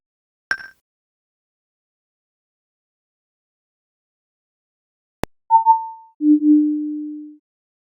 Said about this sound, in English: then it will give you a special sound to indicate that you should remeasure the cylinder